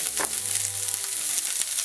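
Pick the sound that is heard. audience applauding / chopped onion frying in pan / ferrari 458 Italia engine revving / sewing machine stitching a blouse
chopped onion frying in pan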